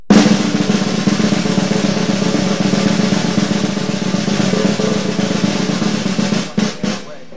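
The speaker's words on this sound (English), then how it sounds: "you start to hear the buzz of the buzz roll" A drum buzz roll of dense multiple-bounce strokes rings as a continuous, loud, even buzzing texture, sustained for several seconds before tapering off near the end.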